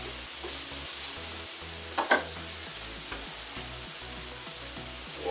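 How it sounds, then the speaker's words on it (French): Bok choy stir-fried in a hot pan, a continuous close sizzle broken by a few sharp clacks of a utensil against the pan near the middle, with no talking. "J'ai une tasse de bok choy. En gros, c'est ce que j'ai. Désolé, il est en train de perdre mes culottes. Donc, on fait sauter ça."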